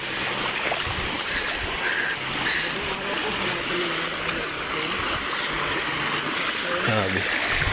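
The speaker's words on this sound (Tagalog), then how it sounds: "Biglang may waterfalls." Heavy water pours down steadily like a waterfall in a downpour on a road in Isabela, with a loud continuous rush filling the whole clip and voices faintly present underneath.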